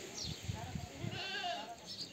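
A young goat bleats a few times at a farmyard in a rural village, the cries thin and wavering beneath rustling, handling noise and nearby activity.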